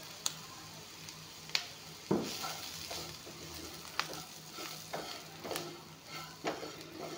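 Oats fry in a pan over low heat, making a soft, quiet sizzle broken by scattered clicks and scraping taps as they are stirred.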